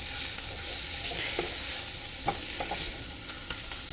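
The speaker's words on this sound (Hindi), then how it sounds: "पाव भाजी मसाला डाल रहे हैं 1 छोटा चम्मच, और इसको मिक्स करके भून लेंगे" Spices and pav bhaji masala are stirred and roasted in a hot pan, producing a continuous loud sizzle with occasional scraping clicks from the spoon, and no voices.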